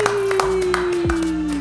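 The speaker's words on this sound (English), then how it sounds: "we got to pause and just give a warm applause to the one and only Raul" Several sharp hand claps ring out in a studio podcast setting, brief and close, over a steady low hum and tone, welcoming a guest.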